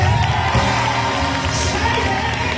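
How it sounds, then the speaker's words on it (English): A church congregation at a Christmas cantata cheers and claps in a loud, continuous swell of whoops and shouting voices close around. "Somebody clap your hands and say yeah."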